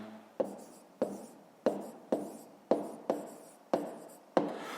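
A pen writes a math solution in a notebook as a quiet series of about eight separate scratchy strokes, each a short burst that fades quickly, with no talking.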